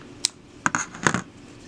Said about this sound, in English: cut your yarn,